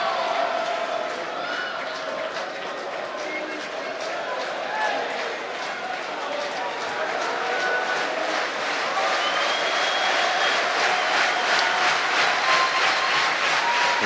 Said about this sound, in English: You can hear the clapping in the background.